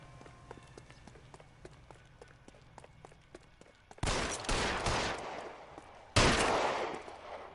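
Gunfire in the video game L.A. Noire, a quiet stretch of rapid clattering followed by two loud, sustained bursts of shooting with footsteps-like pattering beneath.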